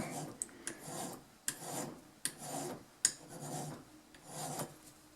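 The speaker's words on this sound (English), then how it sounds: "Make sure you're filing on the same side of the rail." A metal file rasps across a scratchbuilt model bridge guard rail in repeated strokes, about six passes with short clicks at the start of several, close and steady with no voices.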